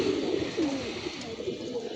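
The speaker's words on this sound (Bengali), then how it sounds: "কবুতরগুলো উড়ে নামছে, 10 মিনিট একটা রেস্ট দিলাম" Pigeons resting after landing from a flight give low, soft coos throughout two seconds of steady background noise.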